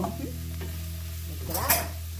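Tomato sautéing in a pan for an Indian egg scramble, a low steady sizzle under a faint hum, with a utensil stirring and scraping near the end.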